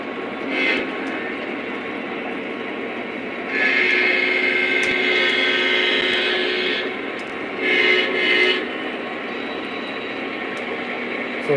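Lionel model train locomotive, an SD70 Mac in Conrail style, rumbling steadily along its track with a constant mid-range drone, and two louder bright swells of motor whine or horn passing close by.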